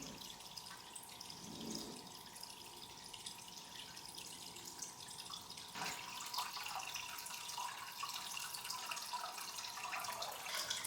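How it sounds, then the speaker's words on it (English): Water siphoned from a saltwater aquarium with sand being vacuumed, a steady soft trickling and gurgling flow throughout that grows slightly louder and brighter partway through, with no voices. "you can suction the sand and it pulls a lot of the sediment out"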